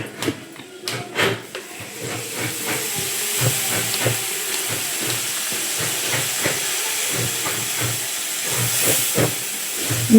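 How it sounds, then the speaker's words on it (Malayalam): Vinegar poured into a hot pan of chili-powder masala for a dried stingray pickle makes a steady hiss, with soft repeated knocks running through it. No one speaks. "വിനാഗിരിയും കൂടെ ഒഴിക്കാം."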